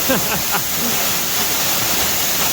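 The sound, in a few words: underground waterfall in a mine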